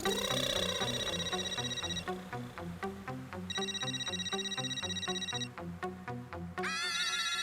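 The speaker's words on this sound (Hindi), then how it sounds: "मेरा फोन बज रहा है माधुरी।" A mobile phone plays a bright electronic ringtone, a looping melody of tonal notes with a steady beat that rings continuously and loudly for several seconds in a domestic setting.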